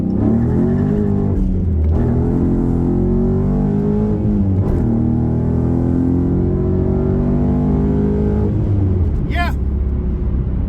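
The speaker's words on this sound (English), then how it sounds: "Let's go through the gears real quick, huh?" A Dodge Challenger Scat Pack with a six-speed manual accelerates hard on an open frontage road, its loud V8 revs climbing through the gears with brief dips at each shift, heard from inside the car.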